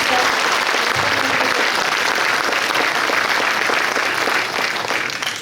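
An audience at a town mayor's New Year ceremony applauds security and rescue forces, a loud, full burst of clapping from many hands that holds steady, then begins to thin out at the end.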